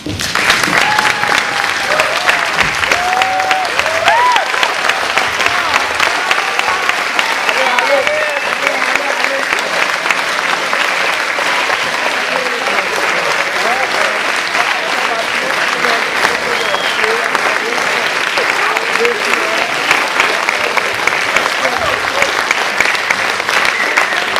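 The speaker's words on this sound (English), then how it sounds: "Could everyone rise and give a big round of applause to Ms. Peters" A standing audience gives a sustained round of applause at a conference closing ceremony, dense steady clapping throughout, loud and even with faint crowd voices underneath.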